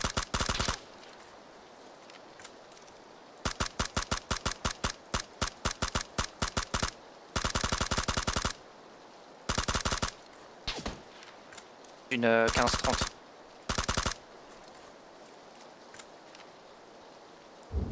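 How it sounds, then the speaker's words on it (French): Bursts of gunfire in PlayerUnknown's Battlegrounds: rapid automatic volleys and sharp single shots come in separated clusters, some close and loud, some fainter, with brief talk in the mix. "j'ai entendu des coups de feu là"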